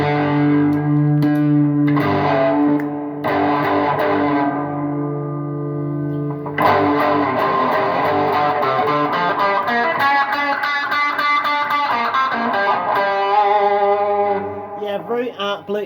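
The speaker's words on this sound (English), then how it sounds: "Very outplayed distortion coming from the Bluesbreaker." Electric guitar played through a Bluesbreaker MK1 clone distortion pedal, with loud, continuous overdriven chords and sustained notes, then busier strummed and picked passages, and no talking.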